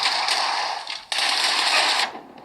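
Rapid bursts of shotgun fire from a mobile shooting game played on a Realme Narzo 60 phone, two loud dense volleys separated by a brief break, with no talking.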